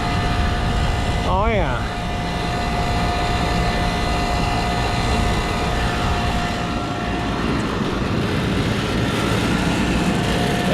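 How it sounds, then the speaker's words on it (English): An HVAC blower inside an AC unit runs with the second stage on, giving a constant loud whooshing drone with a faint steady tone; a voice speaks briefly near the start. "Make sure the blower's running the right direction."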